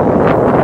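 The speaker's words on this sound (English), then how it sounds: "It's so windy." A short, loud blast of wind by a river roars against the microphone in a constant low rumble.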